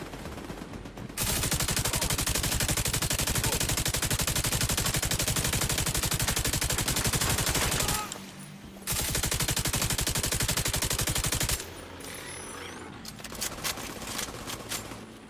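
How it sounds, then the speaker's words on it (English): An automated turret in a video game fires long, rapid, continuous bursts of loud gunfire, breaking off for a moment before another sustained burst, then trailing into quieter, scattered shots. "It's that frickin' turret."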